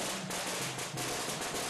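A dense string of firecrackers crackles continuously and loudly during a Hakka folk festival procession in Xunwu, Jiangxi, with bursts packed closely together and no pauses.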